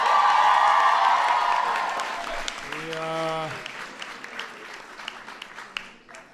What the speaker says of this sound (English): And can everybody please give Amanda another big round of applause?